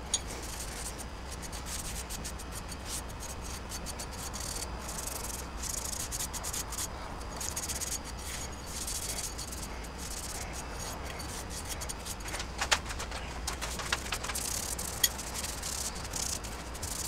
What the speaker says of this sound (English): then we're going to hit it with a Scotch-Brite pad